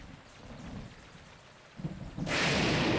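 Thunderstorm in The Legend of Zelda: Breath of the Wild, soft rain and low rumbling that suddenly swell into a loud, hissing crash of thunder from a lightning strike near the end.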